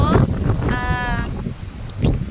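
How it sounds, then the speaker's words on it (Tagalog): Strong wind outdoors at a midrise condominium site buffets the microphone with low rumbling gusts, mixed with brief tonal sounds and a faint voice in the background. "Ay, mahangin masyado."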